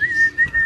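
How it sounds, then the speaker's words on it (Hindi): A single person whistles a steady high tone in short connected bursts to call a pet bird at a bird shop, clear and close with no talk. "इसको बुलाओ सीटी मार के आएगा।"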